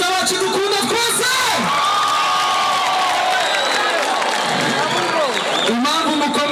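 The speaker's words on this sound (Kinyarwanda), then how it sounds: "Amashyi menshi kuri perezida wacu dukunda twese." Outdoor concert crowd in Nyagatare, Rwanda, roaring with sustained cheers, whoops and applause under a loud amplified voice speaking over the noise throughout.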